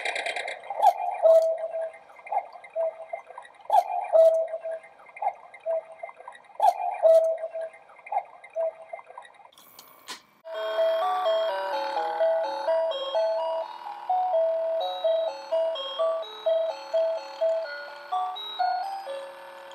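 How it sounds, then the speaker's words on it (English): A cuckoo clock ticks in a steady, close rhythm, then breaks into a bright, repeating chime melody that carries through to the end. "I managed to get a rather nifty cuckoo clock"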